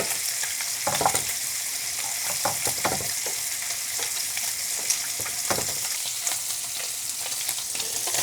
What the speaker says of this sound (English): I'm gonna add the dates and just a little bit of saute on this one also.